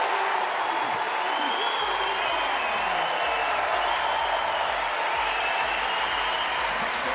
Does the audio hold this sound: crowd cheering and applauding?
yes